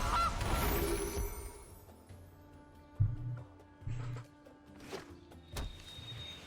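A cartoonish goose honk sounds at the start from the Gilded Goose card in MTG Arena, followed by a few soft thunks and clicks from the game interface.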